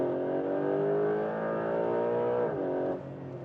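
A Porsche 911 GTS Hybrid engine as the throttle is released: a loud, steady droning engine note holds, then the pitch slides downward as the car comes off the throttle and the sound drops away.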